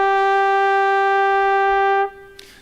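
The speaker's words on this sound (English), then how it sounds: "we have formantic shapes of first a trumpet sound" A single sustained brassy trumpet note holds steady for about two seconds, then cuts off, leaving a brief faint noise.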